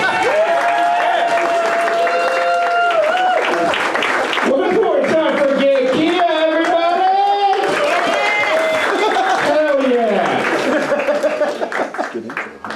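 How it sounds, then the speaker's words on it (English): Audience at a Pro Am comedy show clapping for a comedian as he closes out the night, the applause mixed with some cheering and laughter and overlapping with a sustained voice or music. "Everybody, nice round of applause for Jon Holmes."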